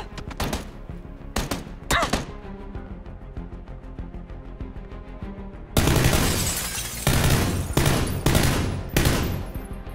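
Gunfire in PlayerUnknown's Battlegrounds, with a few sharp isolated shots early on, then heavier, louder bursts of rapid fire in the second half, close and harsh against a busy game background.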